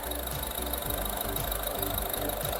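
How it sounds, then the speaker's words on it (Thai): A 2018 Honda City 1.5 S petrol engine idles smoothly up close, giving an even, rapid mechanical ticking pulse with a steady low hum and no revving. "เครื่องยนต์ก็เดินนิ่งๆเรียบๆแบบนี้เลยนะครับ"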